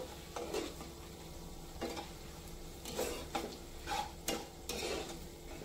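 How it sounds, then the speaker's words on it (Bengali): Biryani spices, including coriander powder and biryani masala, being stir-fried in a pan for egg biryani, heard as a steady close sizzle with intermittent scraping and stirring clatters, no talk. "মশলাগুলো কিছুক্ষণ কষিয়ে নিতে হবে।"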